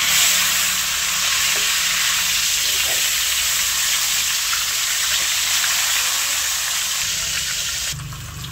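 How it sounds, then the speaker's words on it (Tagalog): Fish frying in a pan of hot oil, a dense steady sizzle and crackle heard close up and alone, easing slightly near the end. "Akin na pong bibilingin yung pong aking pinipritong isda"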